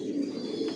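Big-bodied silver racer pigeons, a breeding master pair, cooing in a low, steady, continuous murmur, close and fairly soft, with no other sounds over it.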